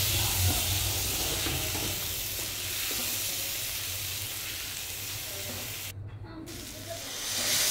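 Vegetables and mung dal sautéing in a pan: an even, hissing sizzle with a low background hum, moderately faint and steady, briefly thinning for a moment near the end.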